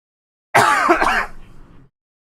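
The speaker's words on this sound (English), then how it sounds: "Still got my cough." A single harsh cough bursts out close by after silence, rasping for about a second before trailing off into quiet.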